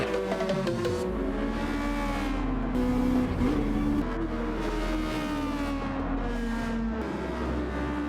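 A race car engine revs hard in Gran Turismo 7 during a race, a steady loud drone with rising and falling pitch as the engine is pushed to its limit, continuous throughout with no talk.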